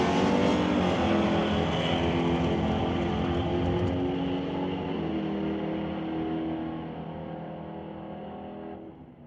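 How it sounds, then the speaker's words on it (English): At an NHRA Summit ET Series drag race, a '68 Dodge and a rival car roar down the strip, a loud, sustained engine drone that fades gradually as the cars pull away. "going against Chris Stone in the 68 Dodge"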